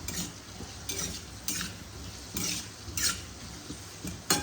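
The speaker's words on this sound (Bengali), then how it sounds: "দেখো আমি আলুটা ফ্রাই করলাম" Potatoes fry in a pan with a steady low sizzle, broken by repeated scraping strokes of a utensil stirring them at a regular pace, close up and with no talking.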